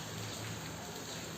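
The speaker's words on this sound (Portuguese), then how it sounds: "O som da chuva" Steady rain falls outdoors under a closed, overcast sky, a dense continuous hiss of drops with no breaks, even and unchanging in loudness.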